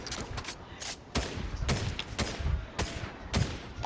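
Rapid bursts of gunfire in the Fortnite video game, several sharp volleys of shots spread across a few seconds, fairly close and loud, with a little background game noise between them.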